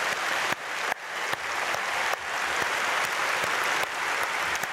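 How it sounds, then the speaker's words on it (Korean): A church congregation applauds in a large hall at a Korean worship service, a dense, steady wash of clapping with a few louder swells, and no voices above it. "우리 박수로 축복하겠습니다"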